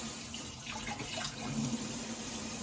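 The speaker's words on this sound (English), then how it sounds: "I still rinse them off because I just don't like that film." Turkey wings rinsed under running tap water in a sink, a steady close rush of water with slight splashing shifts as the pieces are turned.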